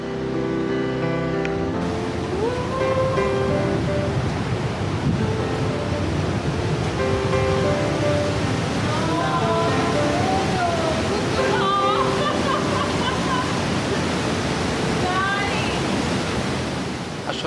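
Mountain streams rush down from the slopes near the Jungfrau in Switzerland, a loud, steady broadband roar of water that never lets up, with a voice running over it throughout.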